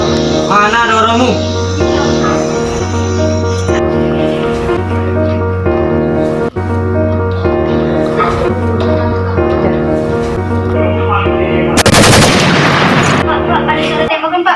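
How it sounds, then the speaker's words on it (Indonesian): A short burst of gunfire erupts briefly near the end of a staged scene in an Indonesian high school short film about the G30S PKI betrayal, cutting loudly through continuous background music. "Pak, ada suara tembakan, Pak."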